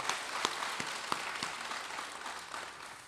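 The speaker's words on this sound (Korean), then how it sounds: "박수를 하나님께 드리겠습니다." Applause from a church congregation during a bilingual Korean and Spanish service, a short burst of clapping with a few sharper individual claps standing out, moderately distant.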